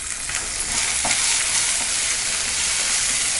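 Onions, green and dried red chillies and a pinch of asafoetida frying in a pan for pongal, a steady close sizzle with faint stirring scrapes, no talk.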